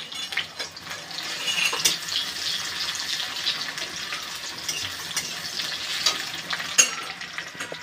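Onions fry with dried red chillies in mustard oil in a wok, giving a steady close sizzle with occasional stirring scrapes and spatters, and no talk over it.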